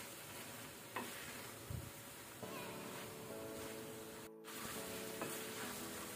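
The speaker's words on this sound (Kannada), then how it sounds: "ಇದನ್ನೀಗ ನಾವು ಮೀಡಿಯಂ ಫ್ಲೇಮಲ್ಲಿ ಒಳ್ಳೆ ರೀತಿ ಫ್ರೈ ಮಾಡ್ಕೊಳ್ಳುವ" Chicken coated in masala fries in a pan over a medium flame, giving a steady, even sizzle with occasional stirring scrapes, moderately quiet and unbroken by speech.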